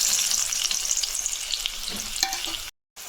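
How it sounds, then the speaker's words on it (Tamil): Chopped large onion sautéing in hot oil with mustard seeds for a goat blood stir-fry: a loud, dense sizzle with crackles and stirring scrapes, briefly cutting out near the end. "வெங்காயம் நல்லா வதங்கிட்டோம்"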